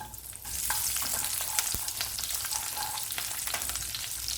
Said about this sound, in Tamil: கத்திரிக்காயை சேர்த்து வதக்கலாம்.